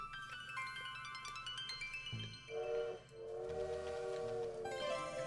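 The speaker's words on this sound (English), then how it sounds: "It really is the sound of the train. I think it's about to take off." A train in the video game Little Witch in the Woods starts to depart, heard as sustained whistle-like tones and rumbling rail noise over a layered game soundtrack, with a louder, steadier stretch in the second half.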